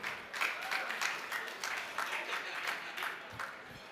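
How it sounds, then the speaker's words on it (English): Gala awards audience at a medical technology event in Malta applauds an award winner, a moderately loud patter of clapping hands with distinct individual claps standing out through the crowd. "Give a massive round of applause once again to Gary Gershoni"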